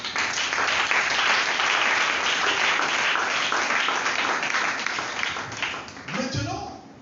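Congregation at a French-language church service applauding, a dense steady wash of clapping from many hands that fills the room for several seconds before thinning out near the end as a voice comes in.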